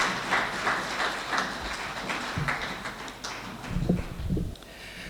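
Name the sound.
audience applause welcoming the poet Abbas Tabish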